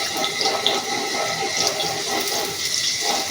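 Onion goes into about three spoons of hot oil for Kolhapuri misal, producing a dense, continuous hiss and crackle up close, steady and fairly loud with no voices.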